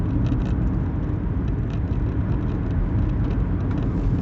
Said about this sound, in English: You can hear the engine kicking in.